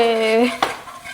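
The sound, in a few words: stirring milk into a mixture in a pan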